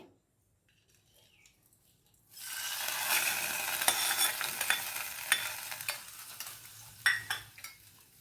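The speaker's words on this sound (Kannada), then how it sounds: "ಚಟಪಟ ಅಂತ ಸೌಂಡ್ ಬರ್ತಾ ಇದೆ ಇವಾಗ ಒಗ್ಗರಣೆ ರೆಡಿಯಾಗಿದೆ" After a quiet start, a tempering of mustard seeds suddenly crackles and spits in hot oil, a dense popping sizzle with sharper snaps, close and continuous.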